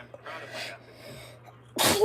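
A single sharp sneeze bursts out near the end, loud and close, after a stretch of faint low background murmur during an auction.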